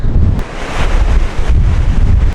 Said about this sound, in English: I don't know if you can tell, but it is that windy